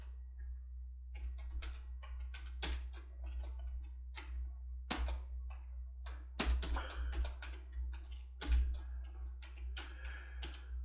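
Quiet, close typing on a computer keyboard, with irregular bursts of key clicks and brief pauses between runs of keystrokes, heard alone with no talking.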